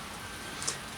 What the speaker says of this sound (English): It's a little rainy out for you.